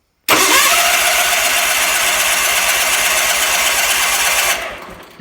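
A Roper RT16T clone garden tractor engine cranks and fires right away, running loud and close with a steady rapid chug for about four seconds before dropping off and cutting out.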